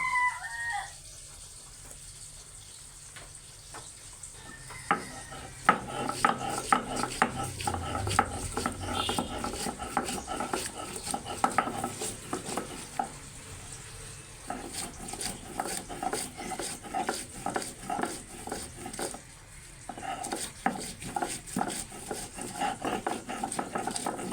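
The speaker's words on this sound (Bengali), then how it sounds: "সুন্দর করে আমি সবগুলো বেটে নিচ্ছি।" Dried red chili, onion, cumin and green chili being ground into a paste by hand, with steady rhythmic rasping and scraping strokes that grow busier after a quiet start and continue close up without talk.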